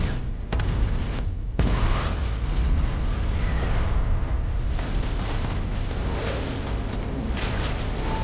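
Nuclear bomb detonation in a giant-monster mecha film battle, where a general sets off the bomb against a pack of monsters: a loud, sustained roaring blast with rumbling low end, a brief dip early on, then continuous thunderous roar throughout.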